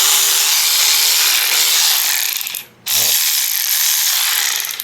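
An AutoJare 12V electric ratchet runs in a steady, loud mechanical whir with rapid clicking, briefly stopping for a fraction of a second before spinning up again and continuing alone.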